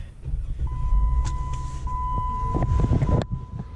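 The 3.6 liter V6 of a 2018 Jeep JK Wrangler runs with a low, close rumble and a steady hum on top, alongside a few clicks and knocks, then drops off near the end.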